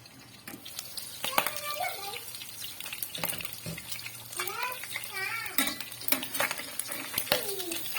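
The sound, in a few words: pork steak frying and being stirred in a pan, oil splattering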